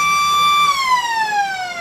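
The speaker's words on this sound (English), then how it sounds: "There's a three-quarter time siren." The three-quarter time siren sounds at an Australian football match between Balwyn and Noble Park, a loud, steady electronic tone that slowly drops in pitch as it holds.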